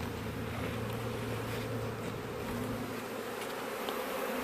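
Honeybees swarming inside a parrot nest box give off a steady, dense buzz that hums on unbroken from start to finish at moderate volume, close by, with no talking.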